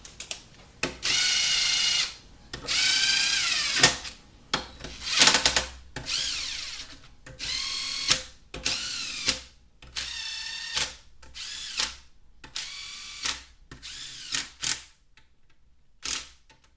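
A power ratchet drives bolts on a CD4E automatic transmission during a rebuild, firing in repeated short loud whirring bursts with clicks between them, up close and with no talk.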